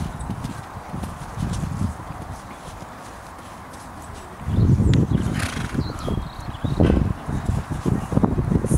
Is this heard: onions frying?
no